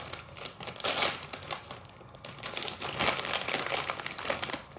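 Trader Joe's pretzel snack bag being cut open, close crinkling and crackling of plastic in uneven bursts lasting several seconds, with no talk over it.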